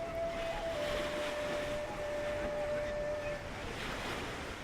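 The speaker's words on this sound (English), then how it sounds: "the soothing sound of the sea never far away" Sea waves on Ireland's west coast roll and wash in a continuous broad roar, loud and close, with wind buffeting the microphone throughout.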